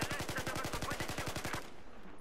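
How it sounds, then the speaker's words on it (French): A carbine fires a rapid, evenly spaced burst of about a dozen shots in the video game Battlefield 4, then stops abruptly, leaving a quiet tail. "On va passer à notre carabine, la petite carabine."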